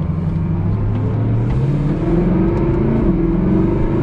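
A Mercedes-AMG Black Series engine revs to about 4000 rpm in a tunnel, a loud, steady rising growl with deep rumble and no talk over it.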